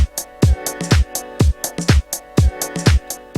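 A synth stab in an FL Studio tech house beat pumps under sidechain limiter compression, rhythmic punchy hits with a deep kick pulsing about twice per second and the stab ducking between beats, no voices.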